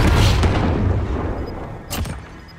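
Rocket launcher explosion in Call of Duty: Warzone, a loud deep boom that rumbles and fades, followed by a sharper crack near the end.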